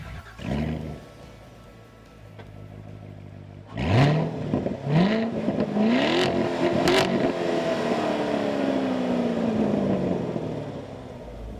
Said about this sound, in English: Now that option bypasses the mufflers for an amazing sound.